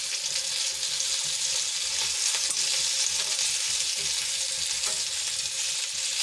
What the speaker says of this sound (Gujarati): આપણે એને ઉપર નીચે પલટાવી દઈશું જેથી કરીને બધી બાજુ સરસ રીતે ચડી જાય